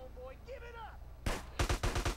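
Shotgun blasts in GTA San Andreas during a police shootout: after a short stretch of whistling tones, about five sharp, booming shots fire in quick succession, close and punchy.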